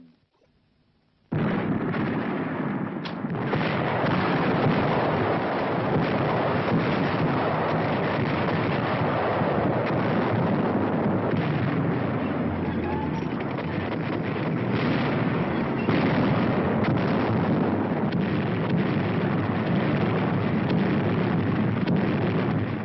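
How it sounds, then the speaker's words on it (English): Explosions from an aerial precision bombing attack in old wartime archive film, a dense, sustained roar of blasts and rumbling that starts abruptly after a short silence and continues loudly without talk. "General Arnold has characterized this attack as the greatest example of precision bombing on record."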